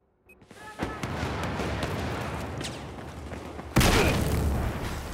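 A C4 charge detonates in Battlefield 4 amid ongoing combat noise, a loud, sharp broadband blast arriving late and sustaining a heavy rumbling tail over a dense background of gunfire and battle din.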